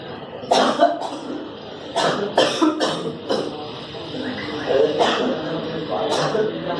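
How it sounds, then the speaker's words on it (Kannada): A patient with a month-long cough in a doctor's consultation coughs several times in short bursts close to the microphone, with a few isolated hacks between them and faint background noise. "ಕೆಮ್ಮು ಡಾಕ್ಟ್ರೆ, ಕೆಮ್ಮು."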